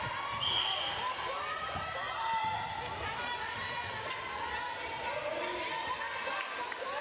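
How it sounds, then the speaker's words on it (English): A strong Pulse contingent in the crowd at a School Games netball arena chants and cheers in a steady, echoing din that runs throughout, with scattered ball bounces and voices mixed in. "You can hear the chants of "Let's go, Pulse, let's go" echoing around the arena."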